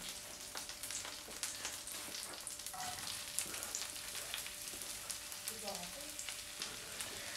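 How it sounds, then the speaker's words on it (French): Onions and garlic sizzle and fry in a pan, a steady close crackle with small pops and stirring sounds throughout, fairly quiet. "là, on fait revenir nos oignons avec de l'ail"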